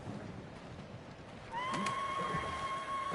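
A horse whinnies in Ghost of Tsushima, a clear, rising neigh that breaks out midway over soft ambient game noise and holds close and loud to the end.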